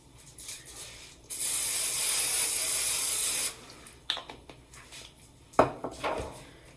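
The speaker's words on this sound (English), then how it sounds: "You want to spray it with like olive oil," A nonstick olive oil spray can sprays a cake pan in one steady hiss of about two seconds, loud and close. Softer handling clatter comes before and after it.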